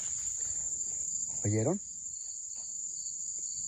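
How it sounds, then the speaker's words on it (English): Crickets chirp at night in a continuous, high, shrill drone that runs throughout, while a person speaks briefly in the middle. "Why are crickets?"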